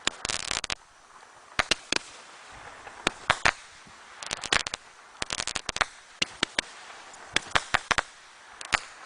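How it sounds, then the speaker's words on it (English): Professional fireworks go off in a rapid, irregular run of sharp cracks and pops, some clustered in quick bursts, loud and fairly close, with no talking. "These are really good fireworks."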